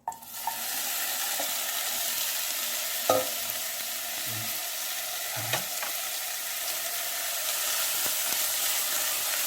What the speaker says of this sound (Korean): 이걸 이렇게 넣어서 같이 이제 북어랑 볶아 주도록 할 겁니다